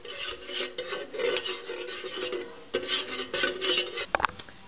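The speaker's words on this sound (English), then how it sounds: "we're just going to take our spoon and stir in that dye." A spoon stirs yellow dye into melted soy candle wax, scraping and rubbing against the container in quick continuous strokes, close up, ending with a couple of sharper knocks.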